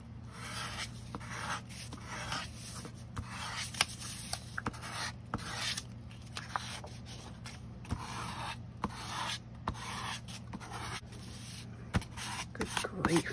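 A bone folder rubs and scrapes over paper, pressing a glued handmade seed packet smooth, with repeated short strokes close by under a steady low hum.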